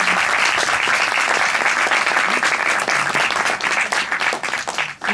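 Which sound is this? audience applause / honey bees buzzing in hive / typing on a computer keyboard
audience applause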